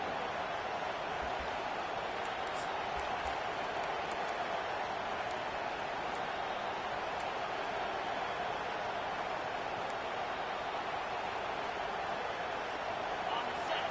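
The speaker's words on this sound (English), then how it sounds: "Here comes this home crowd as the defense tries to get off the field on third down." A home crowd at an American football game roars in a steady, dense wall of cheering and noise that holds loud and unbroken throughout.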